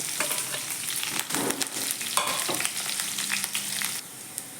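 Urad dal, onion and curry leaves fry in hot oil with a continuous close sizzle, broken by scraping stirring strokes and occasional louder bursts as the pan is tossed; no one speaks.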